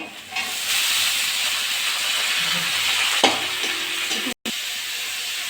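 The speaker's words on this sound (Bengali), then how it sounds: "নেড়ে চেড়ে একটু ভেজে নিয়েছি" Onion and shredded cabbage frying in a pan for veg momo filling, a loud, continuous close sizzle and hiss with stirring scrapes and a brief clunk near the end.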